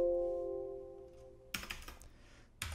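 Typing on a Brazilian computer keyboard: after a fading tonal hum, a few quick bursts of clicky keystrokes land close and crisp, alone without talk.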